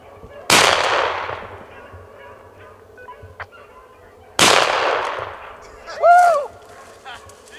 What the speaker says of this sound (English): Old Matt shot and fell off the stump.